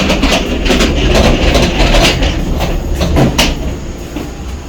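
A hive lifter carrying a stack of honey supers is pushed along, producing a continuous rolling rumble with rattling clatter from the frame and load, close and fairly loud.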